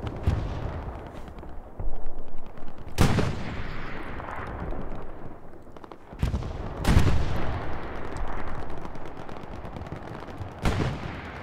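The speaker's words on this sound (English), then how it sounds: "Artillery is landing in" Artillery shells landing in Hell Let Loose on the Utah Beach map, several heavy booming impacts spaced a few seconds apart that ring out over a rumbling battlefield din, with scattered gunfire between them.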